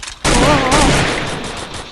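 Gunfire erupts in the Free Fire mobile battle game. A loud, dense burst of rapid shots starts abruptly after a short pause and continues, slowly fading.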